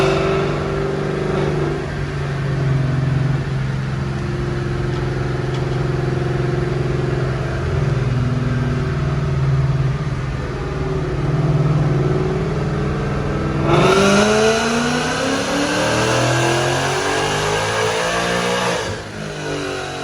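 A supercharged Ford Mustang revs on a dyno, its engine holding a loud, sustained drone before climbing sharply in a rising wail of acceleration and then easing off near the end.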